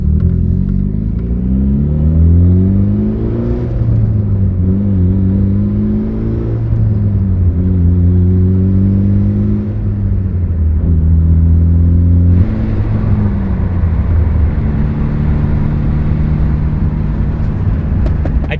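A Mitsubishi Evo 8 running on a base map tune drives along, its engine droning loudly throughout, with pitch rising and falling through gear changes and a sharper surge of revs toward the end; no voices.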